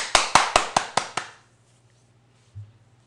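A short burst of group applause at a stock-investment lecture, six sharp claps in quick even succession, then silence with a faint low hum and one soft thump.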